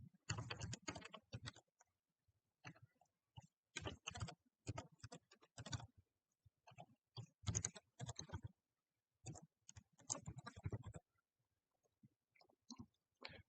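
Quiet computer keyboard typing into an Excel spreadsheet in short bursts of rapid keystrokes separated by pauses, close by and with no voices.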